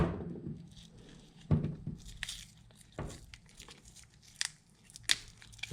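A cable jacket, freshly scored with a LUTZE cable knife, is pulled off in quiet bursts of tearing and crinkling, with several sharp rips and scrapes spread across a few seconds.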